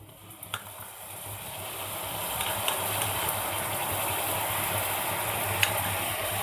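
Ginger-garlic paste sizzles in a pan over browned onions, a steady hissing fry that grows a little louder and holds evenly, with a few faint clicks early on.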